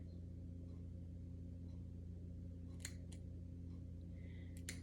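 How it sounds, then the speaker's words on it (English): Scissors make a few small, crisp snips into the backing of a gnome craft kit, two quick cuts near the middle and another near the end over a quiet, steady room hum. "I'm going to take my scissors and I'm just going to Do little baby snips"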